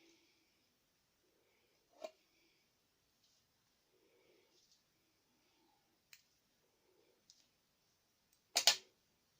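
Paper being cut for a handmade card: a few sharp, isolated snips spaced out across a quiet room, ending in a louder crisp cut close by.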